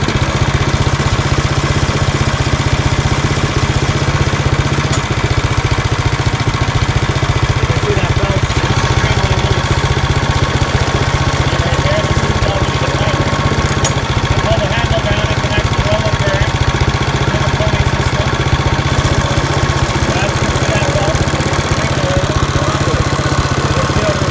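A snow blower engine runs loud and close at a steady idle-like drone while the auger turns, a constant mechanical hum with a voice speaking over it.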